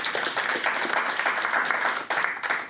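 An audience at a change-management seminar claps in a sustained, even burst of applause, moderately close, with no talk over it.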